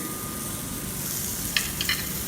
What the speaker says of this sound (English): So I'll first put the zucchini on the griller